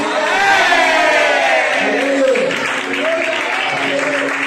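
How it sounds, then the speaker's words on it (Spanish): A church congregation applauds and cheers at a service, with dense, sustained clapping and crowd whoops filling the space while voices shout over it. "Dale un fuerte aplauso."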